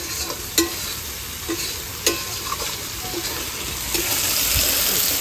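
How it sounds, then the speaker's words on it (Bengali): Mutton pieces frying in a pan of cooked spice masala with salt and turmeric, a steady close sizzle punctuated by a few sharp scrapes and clatters of a stirring spoon, no voices. "এবার মাংসটা দিয়ে দেবো।"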